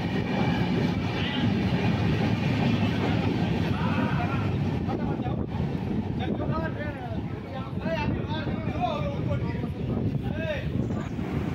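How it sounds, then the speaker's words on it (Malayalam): Another train passes a stopped sleeper-class express at Nagercoil, a loud continuous rumble and rattle of wheels and cars near the window, with people talking over it. "അങ്ങനെ ആ ട്രെയിനൊക്കെ ക്രോസ് ചെയ്ത് പോയി."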